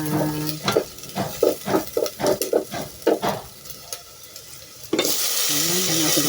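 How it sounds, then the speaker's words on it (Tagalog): Onion, garlic and ginger are stirred in a hot pan with rhythmic scraping strokes over a sizzle, then the frying hiss swells louder and steadier as the stirring stops. "nagigisa na ako ng ating sibuyas, bawang, saka luya"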